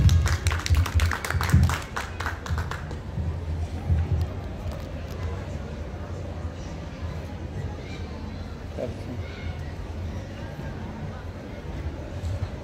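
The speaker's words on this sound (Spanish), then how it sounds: "Recibimos a nuestros presentadores con fuertes palmas" A book launch audience claps to welcome the presenters, with loud bursts of applause in the opening seconds that fade into a murmuring room with scattered taps and rustle.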